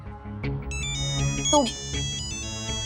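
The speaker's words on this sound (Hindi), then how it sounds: "डैडी का वीडियो कॉल।" Phone ringtone of an incoming video call rings as a steady, repeating electronic melody at moderate volume over background TV-drama music, with people talking in Hindi around it.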